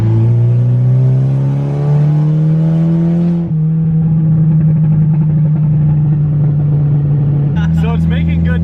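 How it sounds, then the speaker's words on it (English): Straight-piped Saab 9-5 wagon with a turbo engine accelerating, a loud droning exhaust rising steadily in pitch, dropping back after a gear change, then climbing again close up, with turbo whistle and people talking over it. "you can really hear the turbo"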